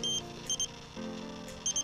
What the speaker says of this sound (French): Et là, vous entendez, elle fait les petits bips